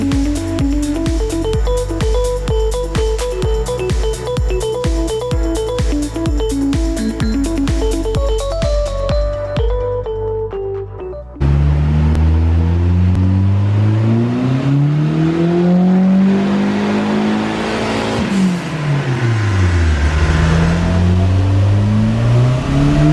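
A Ford RS Turbo on a dyno, first idling with a steady pulsing burble, then revving hard and loud, its engine note climbing, dipping and rising again in sustained pulls close by.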